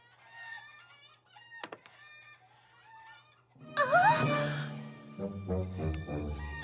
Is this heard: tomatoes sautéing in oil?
no